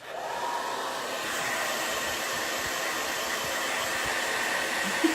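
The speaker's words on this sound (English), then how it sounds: "So give me a second with I blow dry my hair." A hair dryer blows steadily and loudly for the whole stretch, a constant broadband whoosh with a faint low motor hum and no voices, indoors at home.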